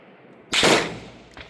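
A rifle shot at an SRA shooting match in Switzerland cracks out sharply and loudly, followed by a fainter second report about three-quarters of a second later.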